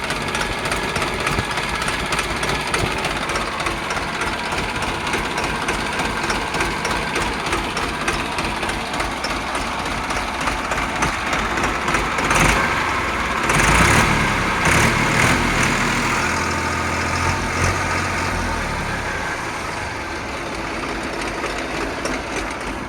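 A New Holland 3230 tractor engine runs with its PTO engaged, a loud steady diesel drone that holds for the whole stretch, with a brief rise in roar midway, no voices.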